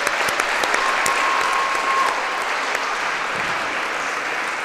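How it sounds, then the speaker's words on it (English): Audience applauding parents at a girls' high school basketball event in a gym, steady dense clapping throughout, loud and sustained. "Let's give them a round of applause"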